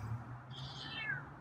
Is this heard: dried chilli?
no